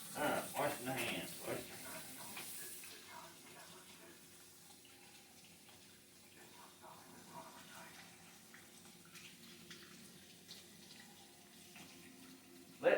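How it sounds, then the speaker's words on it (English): A running tap gushes softly and continuously into a sink while hands are washed, a low, steady wash of water with someone talking over it throughout. "Alright, washing the hands."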